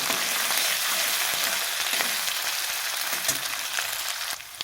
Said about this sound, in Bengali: আদা আর কাঁচা লঙ্কাটাও এর মধ্যে দিয়ে দিলাম এবার একটু ভালো করে এটাকে একটু নেড়ে ফেড়ে দিচ্ছি সমস্তটা